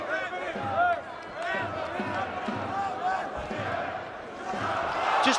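Boxing arena crowd roaring in swelling bursts as the home fighter lands punches against Fury, a loud, dense wall of cheering with shouting voices rising and falling through the whole stretch.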